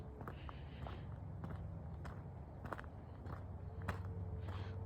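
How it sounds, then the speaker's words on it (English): Footsteps crunch on a dirt path during an outdoor walk, a loose, irregular series of soft scuffs and crunches close to the listener over a steady low outdoor rumble, with no talking. "You hear my footsteps on the dirt."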